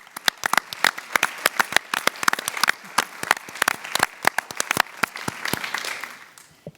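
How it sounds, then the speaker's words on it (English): An audience at a university staff senate open forum applauds at moderate volume: many sharp individual claps blend into steady applause that tapers off at the end. "they deserve a big round of applause for everything that they're doing"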